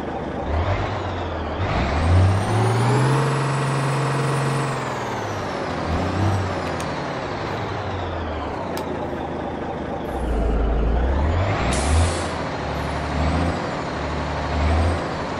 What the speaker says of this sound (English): So here's the truck running.